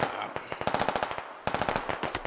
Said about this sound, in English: Kerr gets shot up because he's in the middle of the field